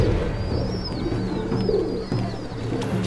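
Pigeons kept for racing coo close by in soft, repeated low calls, with a high chirping whistle floating above them and light background noise.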